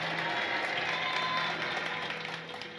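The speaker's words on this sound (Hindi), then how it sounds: "आ गया तो फिर तालियां बजाओ जोर से" A church congregation at a Hindi-language sermon claps loudly together, a dense, steady wash of applause that holds strong and fades slightly toward the end.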